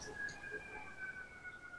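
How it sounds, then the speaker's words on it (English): Distant emergency sirens wail across New York City, a faint continuous two-tone whine sitting under light street noise throughout. "New York likes to let itself be known with sirens"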